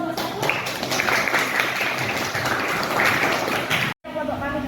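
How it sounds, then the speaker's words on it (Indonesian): Students in a classroom applaud a group, a busy clatter of clapping that runs steadily, with a brief dropout near the end before quieter room sound returns. "Tepuk tangan untuk kelompok 1."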